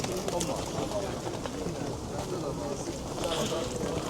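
Pigeons cooing among other birds at the Sabunchu bird market, soft repeated coos set in a busy, noisy crowd ambience, with people talking nearby.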